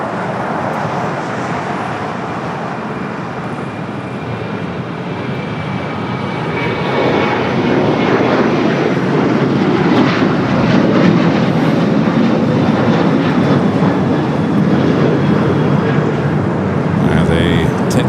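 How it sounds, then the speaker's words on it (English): A Boeing 787 Dreamliner bound for Santiago, Chile takes off at LAX, a broad loud engine roar building and holding strong throughout, with no talk over it. "Away that Dreamliner that will be heading to Santiago, Chile later."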